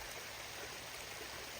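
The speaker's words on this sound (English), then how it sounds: "The water's just kind of coming down this rock face right here." Water from a small stream trickling down a rock face beside a hiking trail on the Appalachian Trail, a steady, fairly quiet broadband splashing and rushing with no pauses.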